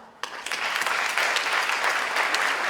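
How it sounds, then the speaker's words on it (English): Graduation ceremony audience bursting into sustained applause for university staff, a dense, steady wash of many hands clapping that starts abruptly and holds at full strength throughout. "My fellow graduates, please give a round of applause to the UPO staff"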